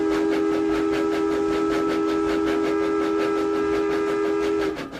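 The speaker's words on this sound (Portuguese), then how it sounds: "E apitou, vindo em sentido inverso, um outro trem iluminado" A train whistle holds one long, loud, steady tone over rumbling rail noise, then cuts off near the end, with no talking.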